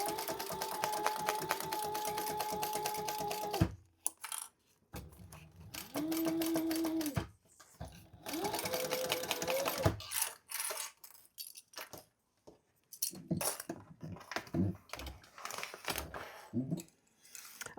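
A sewing machine fitted with a narrow foot stitches a wallet seam in several bursts of rapid whirring, separated by short pauses and small clicks and rattles between runs.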